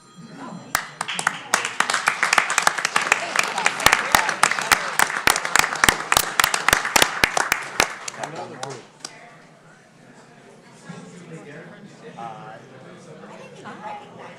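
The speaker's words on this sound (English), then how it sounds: "Clap it again." An audience at a county commissioners' morning meeting claps sharply in quick bursts for about seven seconds, loud and close, then the clapping stops and quiet talking follows.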